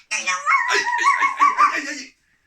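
A voice imitates a dog, letting out a short burst of barking and growling with a nasal, laughing quality, close and loud before abruptly stopping.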